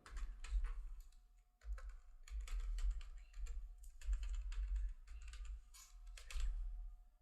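Typing on a computer keyboard as a transporter name and GST number are entered into Tally Prime, rapid close key clicks in several bursts with short pauses, no talk.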